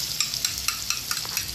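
Eggs and sliced bitter gourd (ampalaya) being stirred in a frying pan, with a steady sizzle and regular scraping strokes of the utensil close by.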